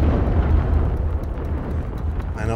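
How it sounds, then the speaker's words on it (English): A big explosion in the video game It Takes Two gives a loud, sustained rumbling roar that holds for about two seconds before it tails off. "that's a big explosion."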